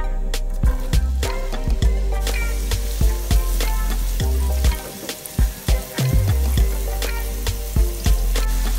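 Chopped onions, one medium or large onion, frying in oil in a pan, a loud, constant sizzle broken by the clatter of stirring and a brief drop in the hiss midway.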